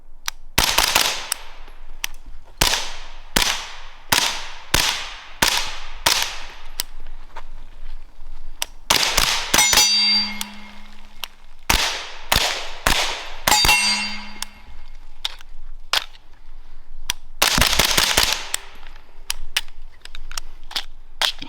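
Rapid string of suppressed subsonic gunshots from a rifle running a 27-round magazine, sharp close cracks with metallic clanks, in bursts and single shots, no talking.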